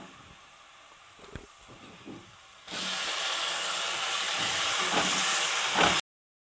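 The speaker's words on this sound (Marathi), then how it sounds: "त्याच्यामध्ये आपण कट केलेला टोमॅटो टाकून घेऊया" Chopped tomato drops into frying onions while stuffed baingan masala is being made, a quiet start followed by a sudden loud, broad hiss and sizzle that holds steady for several seconds before cutting off, close up with no talk.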